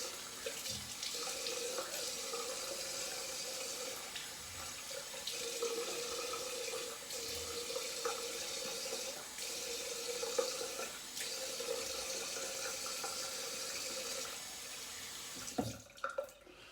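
A tap runs steadily into a sink for a rinse after shaving, a continuous near splash with slight surges, ending with a few clunks.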